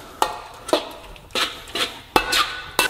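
A metal utensil scrapes and clanks against a wok while a crab and lightly scrambled egg sauce is stirred, six sharp rhythmic strokes with faint sizzling between them.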